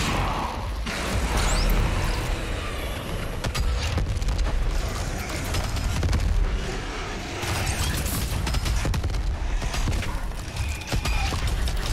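Rocket launcher blasts and explosions in DOOM Eternal, a dense, continuous roar of booms and clattering impacts mixed with combat noise, loud throughout with no talking.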